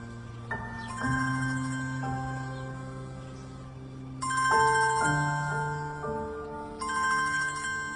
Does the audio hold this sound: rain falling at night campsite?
no